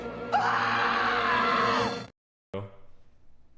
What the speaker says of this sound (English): Leave your message at the sound of the shriek.